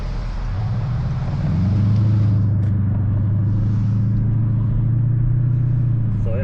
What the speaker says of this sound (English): We're doing a POV nighttime drive in my 2015 S550.